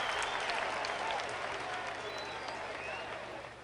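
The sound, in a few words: crowd cheering in video game Air Hauler 2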